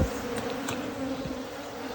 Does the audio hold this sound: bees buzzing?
yes